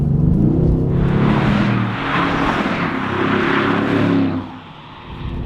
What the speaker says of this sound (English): Anyone who thought a 4-liter V8 was gonna sound bad in the new line of AMGs, you're wrong. This car sounds fantastic.